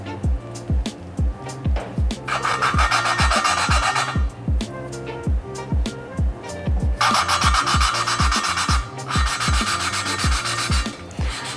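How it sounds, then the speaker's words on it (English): A steady rhythmic gritty rasping as a Volvo 2.5T engine valve is twisted back and forth against its seat by hand during lapping, with regular scraping strokes and no talking. "I'm going to grind it into the valve seat to prevent leaks later on"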